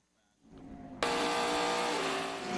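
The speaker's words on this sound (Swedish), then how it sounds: "Andy Lally in the Magnus Racing car off at turn 1, Cal." The number 44 Magnus Racing GT Daytona race car goes off at turn 1: quiet at first, then a sudden loud burst of engine roar and rushing tyre noise that holds steady.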